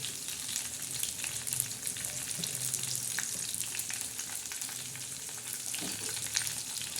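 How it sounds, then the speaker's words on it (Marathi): Curry leaves tempering in hot oil for a moong and toor dal mix, a continuous crackling sizzle with scattered pops, moderately close and steady throughout. "फोडणी बघा बायांनो कशी तडा ताडा देत आहे"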